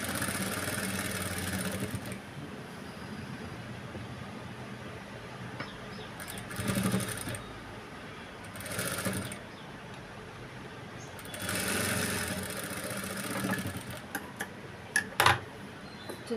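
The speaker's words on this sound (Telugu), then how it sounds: "ఇప్పుడు క్లాత్ని వచ్చేసి ఇలా స్టిచ్ చేసుకోవాలి ఉగ్గులు లేకుండా." Sewing machine stitching a boat neck blouse with lace, running in a few short bursts at a moderate distance, separated by quieter stretches of background hum and small ticks, with no talking.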